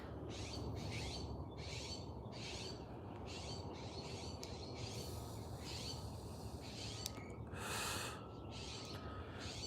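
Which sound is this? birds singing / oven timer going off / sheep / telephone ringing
birds singing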